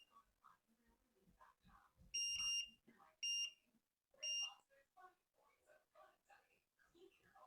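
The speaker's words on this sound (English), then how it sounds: "when you hear the beeping sound of metal" Three sharp, high electronic beeps from a children's metal detector, a RM RICOMAX with a 7.4-inch waterproof coil, sound one after another, each lasting under a second, amid quiet whispered talk.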